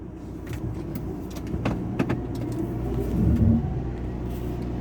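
Powerful car wash dryers roaring over a car, a loud steady rumbling blast that swells toward the end, with a few sharp knocks along the way.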